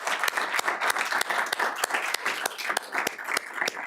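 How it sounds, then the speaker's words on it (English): Audience applause at a school board meeting, a steady patter of many hands clapping with some sharper individual claps standing out, moderately loud and unbroken by talk. "So how about a big round of applause?"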